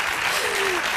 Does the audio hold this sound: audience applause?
yes